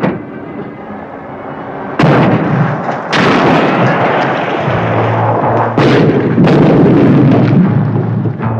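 Cannon artillery fire in a 1979 Afrikaans war drama set at a border base, with loud sudden booms at about 2, 3, 6 and 6.5 seconds, each rolling into sustained rumbling blasts and battle noise.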